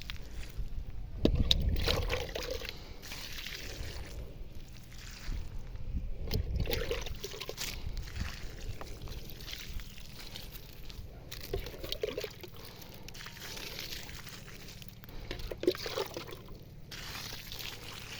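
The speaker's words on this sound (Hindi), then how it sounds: "मैंने इस पेड़ के चारों तरफ इस पेड़ को अच्छी तरह पानी से भिगो दिया है।" Water poured around the base of a tree on hillside farmland to soak the soil at its roots, giving a continuous rushing, splashing trickle with a few louder surges, close by and without talk.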